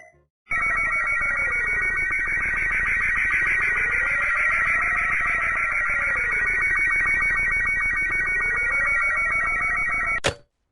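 A sound heard after the beeps when dialing 811: a loud electronic warbling tone whose pitch sweeps up and down in slow cycles over a steady buzzing drone, lasting about ten seconds and cutting off sharply.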